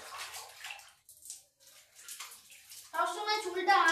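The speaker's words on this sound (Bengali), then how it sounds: "এবার চুলটা ধুয়ে দিচ্ছি।" Running water rinses shampoo out of hair, splashing and sloshing close by in uneven bursts, while a voice talks over part of it.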